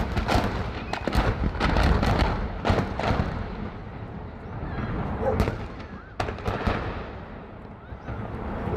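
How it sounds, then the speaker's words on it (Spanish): Explosive devices detonated outdoors in Tunja, a rapid series of loud, sharp bangs and cracking blasts that rumble and overlap, with a noisy crowd in the background. "se hace pues la detonación de los explosivos que estaban ahí"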